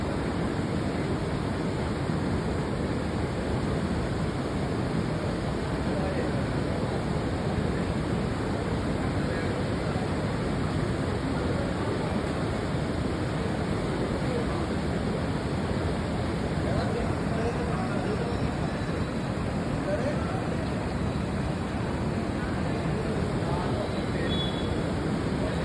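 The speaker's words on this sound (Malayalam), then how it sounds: "എന്തൊക്കെയോ പുഴയിൽ കൂടെ ഒഴുകി പോകുന്നുണ്ട്. നിറയെ സാധനങ്ങൾ ഒഴുകി പോകുന്നുണ്ട്." Floodwater of a river pours beneath the Pattambi bridge in Kerala, a broad, unbroken rushing roar that stays loud and even throughout, with no speech above it.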